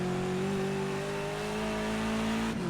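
A BMW 320 TC E90 touring car revs hard in Project Cars 2 at Bathurst, a loud steady engine drone holding high revs with a brief dip near the end, no talk.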